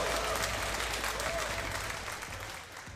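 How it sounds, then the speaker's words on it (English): Applause from a crowd at an esports grand final, the Heroes of the Storm match against ROCCAT, a steady, dense clapping that fills the room and slowly tapers off toward the end. "Give them a round of applause."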